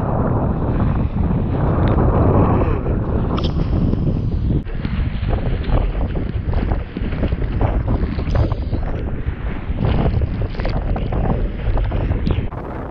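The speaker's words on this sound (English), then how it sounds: "It's a bit windier than I would like." Strong wind buffeting a sailing boat at sea off Blackpool, a loud, continuous roar of wind noise on the microphone, with water and hull sounds blended underneath and no talking.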